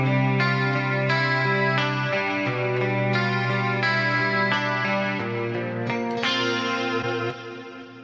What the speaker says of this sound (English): I added a good bit of delay on that part